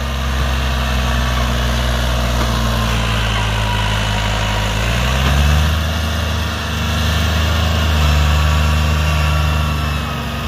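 A loud tractor engine drones steadily under load, its low rumble rising and dipping slightly as it pulls a loaded sugarcane trolley, with no voices.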